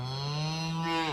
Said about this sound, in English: I could hear them mooing at me from the house.